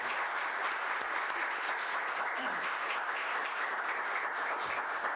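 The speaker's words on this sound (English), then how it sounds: "I'd like to give them a round of applause because they're my team" An indoor audience at a county government budget presentation claps steadily and evenly throughout, a dense continuous round of applause with no talking.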